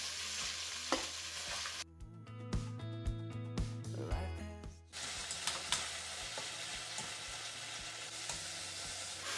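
Beef searing in a pot for a beef and potato stew, with a steady close sizzle that briefly gives way to a short musical passage in the middle before the frying noise returns.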